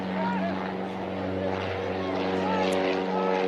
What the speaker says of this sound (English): Sounds like a helicopter's just hanging around our microphone.